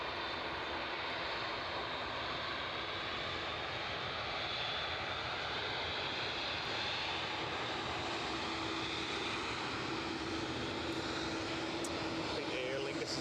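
Aer Lingus airliner taking off at Edinburgh Airport: a steady, full engine roar throughout, fairly distant and even in level, with people talking over it.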